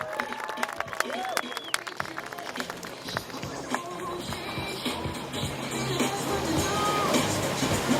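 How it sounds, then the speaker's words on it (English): A large audience at a live stage event keeps applauding as pageant finalists are welcomed back, a dense steady wash of clapping that swells toward the end while crowd noise and voices carry through it. "keep the applause going for the second of our finalists, Miss Alicia Stewart"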